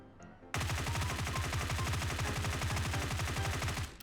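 Automatic rifle fire in a video game, a recoil-controlled close-range spray with a laser sight fitted: a fast, evenly spaced stream of loud shots that starts abruptly and runs steadily for over three seconds before cutting off.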